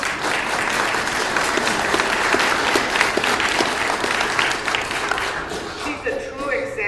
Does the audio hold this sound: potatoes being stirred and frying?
no